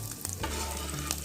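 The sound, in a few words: puti fish frying in oil in a pan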